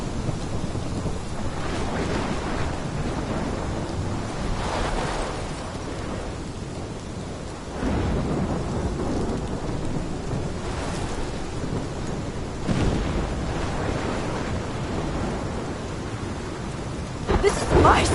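A thunderstorm in the video game Life Is Strange: steady heavy rain hisses throughout while several deep rolls of thunder swell and fade, ending in a sharper crack.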